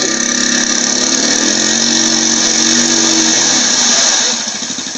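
An off-road vehicle stuck in mud on a Berkshires trail, its engine roaring at steady high revs for several seconds, pitch dipping and rising slightly, then easing off near the end; no talk.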